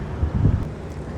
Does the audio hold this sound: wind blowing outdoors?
yes